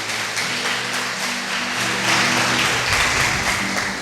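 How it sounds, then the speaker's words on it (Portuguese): A church congregation applauds during a sermon, a broad continuous wash of clapping that swells slightly midway, with low background tones beneath. "Dê um aplauso a Jesus."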